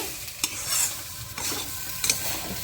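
Semolina halwa stirred in a pan after the lid comes off, a few sharp spoon scrapes against the pan over a soft background hiss.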